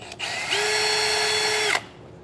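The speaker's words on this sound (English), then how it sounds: "Take an 1/8" drill bit and drill out all those locations." A 1/8-inch bit drills holes while a B&W custom installation kit is fitted to a 2022 Ford F-250 Super Duty. The close, steady power-drill whine rises quickly, holds for just over a second, then winds down, with no voices.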